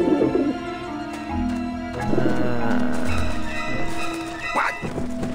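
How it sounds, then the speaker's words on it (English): Pigeons coo in Grim Fandango Remastered, a series of soft, throaty calls repeating over several seconds close by, with no one speaking. "I don't like the looks of those pigeons."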